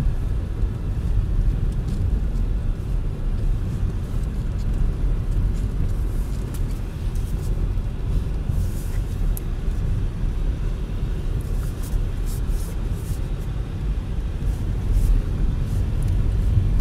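A Nissan Note e-POWER 4WD pulls away on an ice course, giving a steady low road rumble and soft drive hum that continues without break for the whole stretch.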